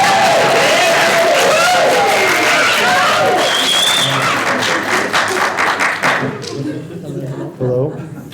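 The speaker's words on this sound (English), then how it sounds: "You can clap some more." Audience clapping at a conversation event, loud and dense at first with some cheering, then thinning into scattered claps under a mix of voices and chatter.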